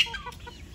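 Chickens on a farm in Liberia give a short burst of close clucking, brief and moderately loud with no talk.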